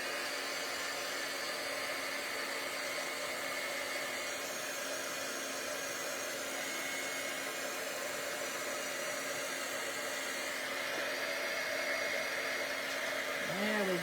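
Continuous loud rushing of a heat embossing tool blowing hot air over stamped paper during a card-making demo, holding an even, unbroken hiss from start to finish.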